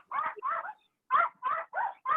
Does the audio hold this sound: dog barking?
yes